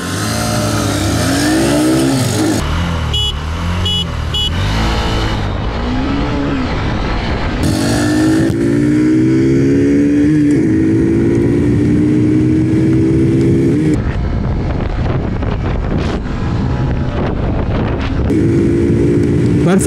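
Honda SP 125 and Hero Glamour Xtech BS6 motorcycles rev hard and accelerate side by side in a top-end drag race, engines loud and close with rising pitch sweeps as gears shift repeatedly, under steady wind buffeting.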